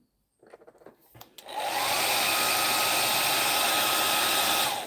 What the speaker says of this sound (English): Hairdryer's coming out again, sorry.